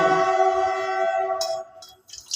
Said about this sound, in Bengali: আমাদের পাশে স্টেশন, তারপর ট্রেনের আওয়াজগুলো তোমরা শুনতে পাও।